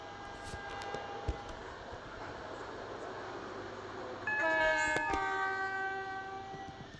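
A train horn honks in the Roblox Stepford County Railway game, a loud steady multi-tone blast starting partway through and holding for several seconds above quiet rolling rail noise, with no talk.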